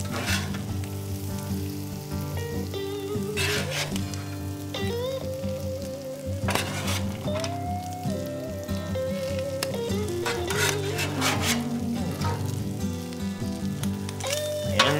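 Vegetables and ham sizzle on a Traeger Flatrock griddle in a continuous crackle beneath background music, with scrapes and sharper bursts here and there.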